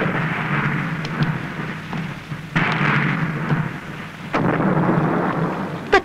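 A thunderstorm in a Hindi comedy film scene, with steady rain hissing and several loud cracks and booms of thunder rolling through, no voices.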